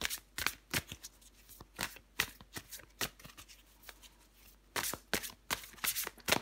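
Tarot cards being shuffled and drawn for a weekly Aquarius reading: a quick series of crisp riffling and snapping card sounds, close and fairly quiet, with no talk.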